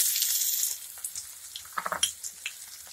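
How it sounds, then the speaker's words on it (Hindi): Asafoetida, fenugreek seeds and garlic paste sizzle and spatter in hot oil at close range. A hissing fry fades, then gives way to sharp crackles and pops, with faint stirring scrapes and no talk. "ये देखिए तेल गर्म हो चुका है। सबसे पहले हींग डालेंगे और इसके बाद मेथी डालेंगे और लहसुन का जो पेस्ट है वो डालेंगे"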